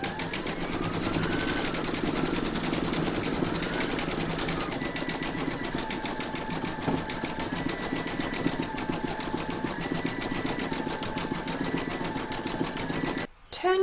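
An embroidery machine stitching facial features on a stacked pumpkin design in the hoop runs with a steady, fast mechanical whir and rhythmic needle ticking, moderately quiet and continuous, cutting off briefly just before the end.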